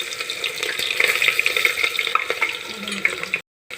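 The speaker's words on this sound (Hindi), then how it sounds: "फ़ौरन ही हम इसमें डाल देंगे प्याज।" Onions and whole spices frying in a pan, a steady crackling sizzle with light stirring scrapes, fairly close and continuous, cutting off briefly near the end.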